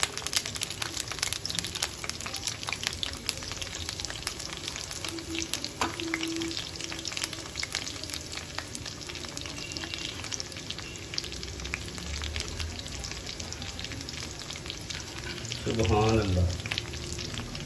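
Four or five cloves sizzle and fry in a pan over a low flame, giving a steady crackling hiss with occasional stirring scrapes, and someone briefly speaks near the end.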